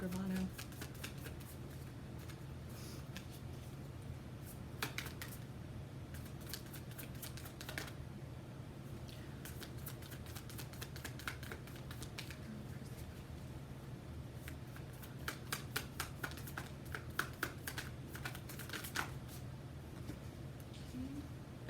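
Light Seers Tarot cards are shuffled by hand in quiet bursts of rapid papery riffling and clicking that come in several clusters separated by short pauses.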